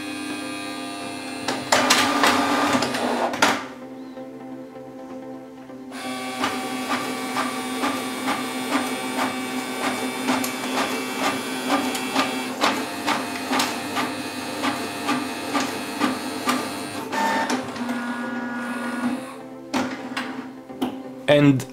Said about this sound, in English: To test my printer, I will do a quick copy test.